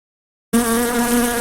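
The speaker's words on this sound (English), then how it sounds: "Fly." A fly buzzes loudly and close by, a steady droning hum that begins abruptly after silence and holds evenly with slight wavering.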